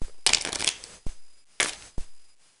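Two riffle shuffles of a deck of playing cards, each a dense burst of rapid flutter ending in a sharp snap as the halves are bridged together, close and clear with no talk.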